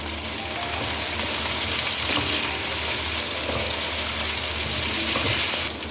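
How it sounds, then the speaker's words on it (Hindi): Mutton pieces fry with onion and garlic-ginger paste in a pan, a loud continuous sizzle with bursts of crackle and occasional stirring scrapes. "अब गोश्त को प्याज के साथ फ्राई कर लें।"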